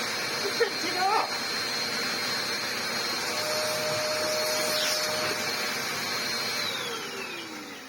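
A vintage Dyson DC03 upright vacuum cleaner runs close by with a steady, loud motor whine and rushing airflow, holding level before easing off slightly at the end.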